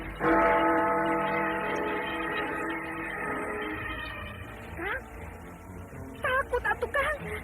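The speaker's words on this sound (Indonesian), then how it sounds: "Suara lonceng itu amat mengerikan." A bell tolls once, its ringing tone slowly fading over several seconds, followed by a few short voices speaking.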